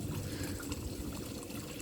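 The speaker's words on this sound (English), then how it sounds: "the water's coming out, which is good" Water pours steadily out into the end chamber of a raised, aerated koi pond's multibay filter, a soft continuous splash and trickle heard up close and alone.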